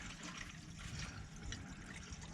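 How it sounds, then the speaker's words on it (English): Water runs steadily into a toilet cistern as it refills after a house's pipes have been repaired from freeze damage, a soft continuous gurgling trickle, faint and close, with no voices. "Hopefully that's just the toilet filling."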